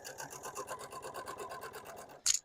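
A sewing machine stitches a quarter-inch seam on a quilt block, a fast even needle rhythm running close for about two seconds before a brief sharp click at the end.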